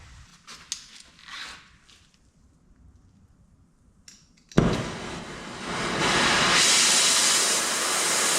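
An oxy-acetylene torch heating a cast radiator part flares on abruptly after a quiet stretch, a loud, close, steady roaring hiss that builds and holds to the end.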